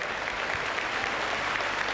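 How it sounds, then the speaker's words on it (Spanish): Spectators at the Benidorm Palace applaud in a thick, continuous wash of clapping, loud and even throughout with no pauses or voices rising above it. "El aplauso de los espectadores del Benidorm Palace"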